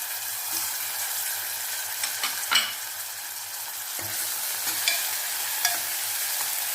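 Slit green chillies fry in hot oil for a taro curry, giving a steady broadband sizzle with occasional sharper crackles and stirring clicks, close and continuous throughout.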